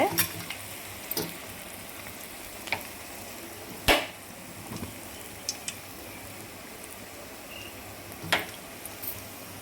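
Semolina and coconut milk sweet balls fry in hot oil with a steady close sizzle, punctuated by a few sharp clinks and scrapes of a utensil against the pan.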